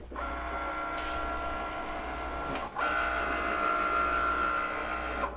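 Cricut cutting machine working on a handmade card: a steady mechanical whir and hum close by, with a brief clunk partway through as the carriage shifts, then a higher-pitched motor tone continues.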